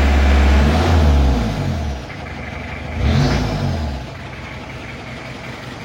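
A restored 1982 diesel car engine with a newly fitted turbo, heard up close as the throttle is blipped: a loud rev that falls back to a rough idle, then a second shorter rise and settle.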